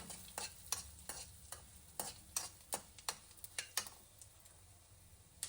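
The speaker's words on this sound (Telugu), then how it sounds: "ఇప్పుడు నూనెలోకి ఫస్ట్ మనం జీలకర్ర మెంతులు అలానే ధనియాలు కూడా వేసుకొని కొద్దిసేపు వేయించుకుందాం" Cumin, fenugreek and coriander seeds fry in hot oil, with light sizzling under a series of sharp clinks and scrapes from a stirring spoon. The sounds are close and moderately quiet, with no talking.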